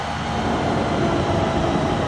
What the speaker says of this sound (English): This is a Central Line train to Hainault via Newbury Park.